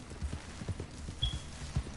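Horse hooves clip-clop in a PS4 video game, a steady run of quick, evenly spaced thuds at moderate volume near a lake, with no talk over them.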